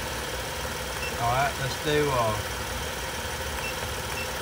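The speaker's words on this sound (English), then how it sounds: "this thing is idling about 800 RPMs" A car engine idles steadily at about 800 RPM during a battery charging and load test, a low continuous hum beneath a man's brief speech.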